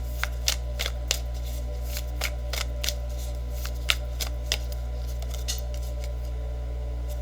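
Tarot cards being shuffled and handled, a run of crisp riffling snaps and flicks at irregular intervals over a steady low hum, close and fairly quiet with no talking.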